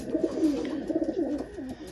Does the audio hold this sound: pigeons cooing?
yes